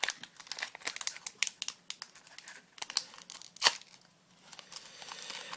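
Crinkly foil wrapper of a Pokémon booster pack being torn and crumpled open up close, a run of sharp crackling rips and rustles with one louder tear near the end, then quieter handling.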